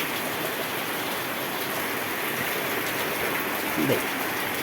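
Steady, dense hiss of heavy rain pouring down, constant throughout with a brief faint disturbance near the end.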